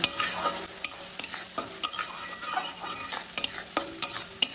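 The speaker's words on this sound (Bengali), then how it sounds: "এখানে একটা টমেটো আমি পেস্ট করে নিয়ে সব কিছু তেলের সাথে কষিয়ে নেব" Garlic-ginger paste and tomato puree fry in oil while a spoon scrapes and stirs the pan, soft sizzling under repeated sharp scraping strokes at an uneven rhythm, fairly quiet and close, no talking.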